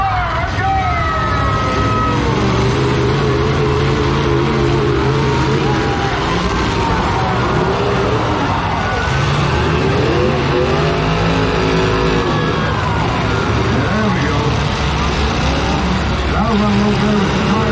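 Demolition derby cars in an arena at the Wyoming State Fair, several engines revving and roaring loudly in overlapping waves for the chain-up class, with an announcer talking over the din.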